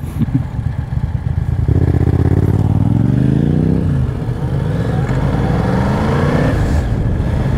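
Riding a motorcycle in its most powerful mode, the engine rises in a clear accelerating whine over road and wind rumble, then settles into a steady cruising drone.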